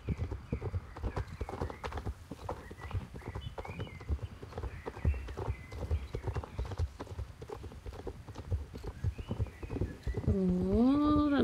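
Horse hooves gallop at a rapid, steady beat in the video game Star Stable Online, fairly quiet and continuous, with a rising tonal sweep near the end.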